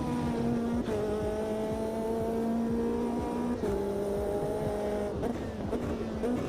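Race car engine in the Automobilista 2 sim, not revving freely in one gear, holds a steady strained drone that climbs slowly, broken by a few brief lifts and shifts.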